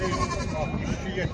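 Sheep and lambs bleat at a busy livestock market in Mashtaga, Azerbaijan, the animal calls mixed into a dense crowd noise with people talking nearby.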